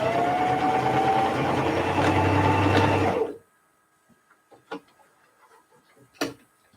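A sewing machine stitches around a quilted dog coat, running steadily and loud for about three seconds before it stops, followed by quiet handling sounds and small clicks.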